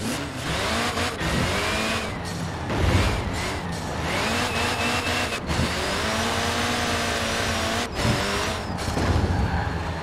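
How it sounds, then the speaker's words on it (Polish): A Reliant car is driven in Forza Horizon 4, its mid-pitched engine droning and revving continuously with rising and falling pitch sweeps and occasional sharp knocks. "To jest najgorzej jeżdżący samochód w tej grze."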